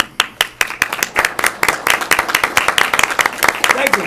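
A council meeting audience claps, dense, steady applause from many hands close by, with a voice speaking over it.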